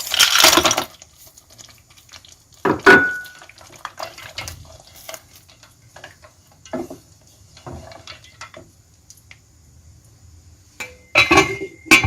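Water and ice poured into a pot of Iranian fesenjoon stew, with splashing bursts, clinks of ice against metal and quieter handling noises in between, close and fairly loud.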